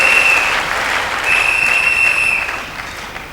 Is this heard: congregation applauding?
yes